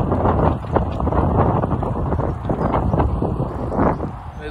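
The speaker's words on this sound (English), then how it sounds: "There's a bit of wind, some gusts about" Strong gusty wind roars loudly across the microphone, surging and easing in waves with no pause.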